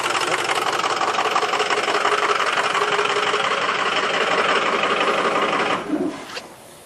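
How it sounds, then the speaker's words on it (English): A 2006 Ford F450 truck engine runs while misfiring on two cylinders, giving a loud, steady, rough mechanical drone that then cuts off near the end as it is switched off, followed by a brief clunk. "I don't want it running too long while it was actually misfiring on 2 cylinders"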